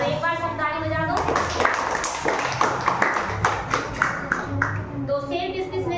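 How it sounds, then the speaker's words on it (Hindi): Children clapping hands together in a classroom story activity, several loud, brief bursts of claps mixed with a teacher's voice speaking over and between them. "तो एक बार सब ताली बजा दो।"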